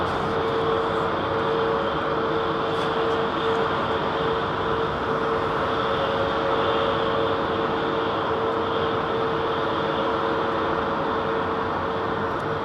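A British Airways BA 350 airliner departing London Heathrow at night, a steady distant jet roar with a constant whining tone held throughout, no voices.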